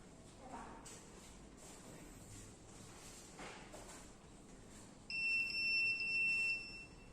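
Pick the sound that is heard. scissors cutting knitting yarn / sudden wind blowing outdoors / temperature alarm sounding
temperature alarm sounding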